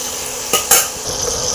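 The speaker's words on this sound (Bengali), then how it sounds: "চিংড়ি মাছটা আমি ছোটো ছোটো করে কুচিয়ে নিয়েছি। এবার এটা ভেজে নেব।" Chopped prawns frying lightly in a pan give a brief, close burst of sizzle, with a couple of sharp metal clinks as a spatula stirs them, and no voices.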